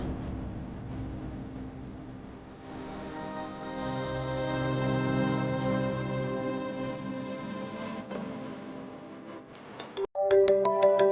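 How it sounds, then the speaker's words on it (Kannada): A phone ringtone in a Kannada TV serial scene, heard as a steady, loud melodic tone sustained over several seconds before breaking into short bright chirps at the end. "ಆದ್ಯ ಅದಕ್ಕೆ ಫೋನ್ ಮಾಡ್ತಿದ್ದಾರೆ."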